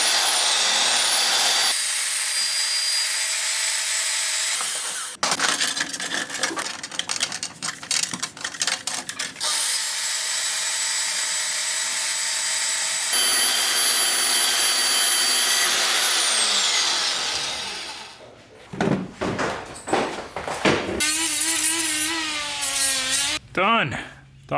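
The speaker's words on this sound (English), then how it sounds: "Luckily we've got the bandsaw." A bandsaw cuts through steel mounts in a car build shop, giving loud sustained cutting whine in long passes broken by short gaps, with clanks, rattling handling noises and a high ringing squeal near the end.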